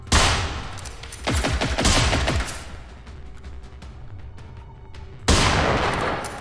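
Gunfire in Generation Zero, shots fired through windows: a rapid volley of loud cracks in the first two seconds, a quieter lull with faint echoes, then another sudden loud shot near the end.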